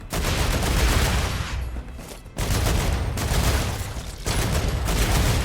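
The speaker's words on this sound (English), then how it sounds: "I don't know why I'm shooting this" Rapid bursts of gunfire from shooting in the sci-fi survival game StarRupture, loud and dense, with a brief lull around the middle before the shooting picks up again and continues to the end.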